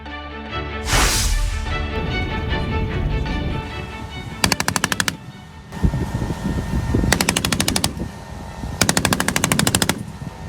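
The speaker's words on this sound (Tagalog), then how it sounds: "Sunod-sunod na putok ng missile ang pinakawalan ng MADIS o Marine Air Defense Integrated System." A MADIS Marine Air Defense Integrated System fires in rapid succession: a loud initial blast followed by three sharp bursts of fast, evenly spaced reports, with rumbling echoes between them and no talk.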